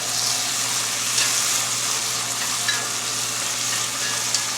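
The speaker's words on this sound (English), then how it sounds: "sauteing our Holy Trinity, which is our celery, our bell peppers, our onions, green onions" Celery, bell peppers, onions, green onions and garlic sauté in a pan for Louisiana chicken and smoked sausage jambalaya, giving a steady, close, even sizzle with a few faint pops throughout and no voices.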